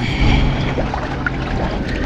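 Freshly caught fish poured out across a boat deck in a heavy, wet, sloshing rush with a trickle of water, loud and close, with no voices.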